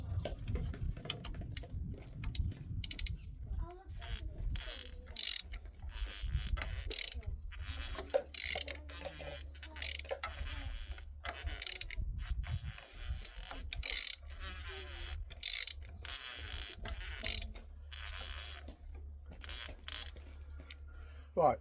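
A ratchet with an 18mm socket clicks on a 1999 Ford Transit Mk5 Autosleeper camper under restoration, close bursts of rapid ratcheting spaced irregularly across the clip with pauses between strokes.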